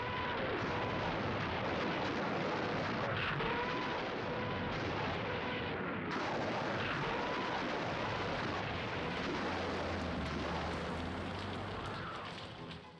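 Soviet artillery shells and rockets fire in a dense, continuous barrage of booms and rumbling blasts, loud and sustained throughout with no talk.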